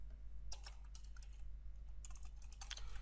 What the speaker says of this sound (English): inside that I'm just typing here genre